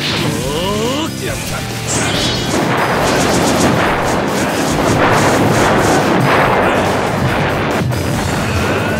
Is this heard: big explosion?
yes